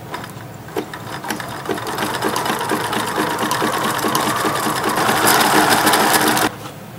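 A sewing machine stitching fabric for small doll garments runs in a steady, loud, continuous whir with rapid needle clatter, stopping abruptly just before the end.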